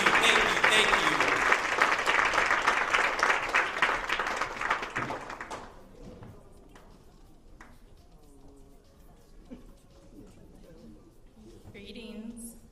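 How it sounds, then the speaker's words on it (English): A crowd at a poetry slam applauds to welcome the opening performer, a loud dense burst of clapping and cheers that fades after about five seconds into scattered claps and low room murmur, with a voice talking near the end. "Let's give a nice warm round of applause"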